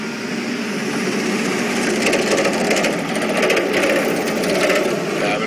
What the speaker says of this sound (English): I'm just going to move the vehicle again